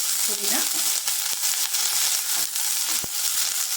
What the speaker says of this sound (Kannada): ಪುದೀನ ಹುರಿತಾ ಇರೋ ಹಾಗೆ